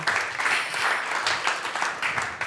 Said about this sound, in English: Please, warm hand of applause for these fine people.